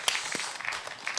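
A small audience at a 2022 youth participation festival in Yeonggwang, Korea, gives faint, scattered applause, a few soft claps heard from a distance over a quiet hall.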